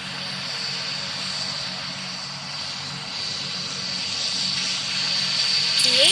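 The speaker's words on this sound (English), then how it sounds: "The ATR 72 is now landing." An ATR 72 turboprop airliner landing in the flight game PTFS, its steady propeller and engine drone running throughout and swelling slightly toward the end.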